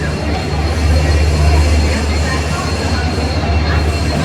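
A train pulls into a busy Mumbai railway platform, its rumbling wheels and rail noise loud and steady throughout, with crowd murmur and voices blending in the background.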